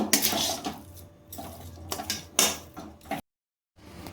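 Semolina dough with ghee is stirred in a pan, making close scraping and clinking spoon-against-metal sounds in irregular bursts, with a brief silent pause near the end.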